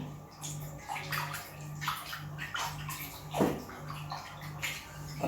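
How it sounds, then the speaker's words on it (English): Water splashes and sloshes as hands are washed before a meal of homemade akpu, coming in a string of short irregular bursts over a low steady background hum. "Wash your hand before we pray."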